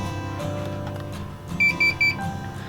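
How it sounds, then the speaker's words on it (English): A Bahco electric pruner chirps a quick series of three short high-pitched beeps on powering up, over a low background hum. "Once it beeps, you know it's on"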